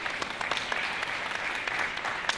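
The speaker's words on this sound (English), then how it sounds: "Round of applause for Stevie" A conference audience at a talent summit applauds a robot on stage, a moderate, steady crackle of many hands with a few sharper individual claps standing out.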